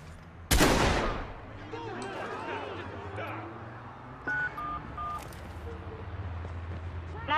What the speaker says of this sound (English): some nut job shooting at people out here